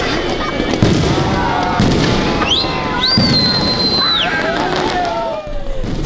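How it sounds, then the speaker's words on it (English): A New Year fireworks display bursts outside the Lamana Hotel, with loud repeated booms and crackles, whistling rockets climbing overhead and a crowd's noise running underneath throughout. "city residents gathered outside the Lamana Hotel to witness the display of fireworks"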